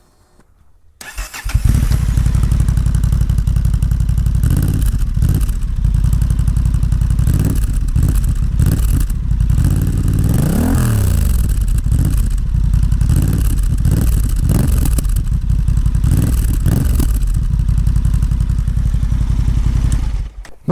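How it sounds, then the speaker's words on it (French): A Honda motorcycle engine with an exhaust baffle fitted starts up and idles steadily with a deep, throaty exhaust, with a few revs in the middle, loud and close throughout. "voilà le bruit final de la moto"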